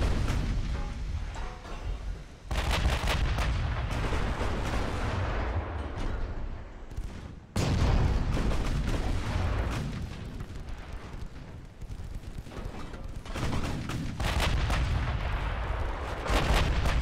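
Battleship main guns boom repeatedly in the naval combat game Ultimate Admiral: Dreadnoughts, heavy blasts arriving in clusters with rumbling roar between salvos, loud and dense with brief lulls.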